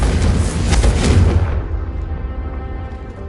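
A Confringo fire spell explodes in Hogwarts Legacy, a loud, close booming blast that rolls and then fades into a low rumbling tail.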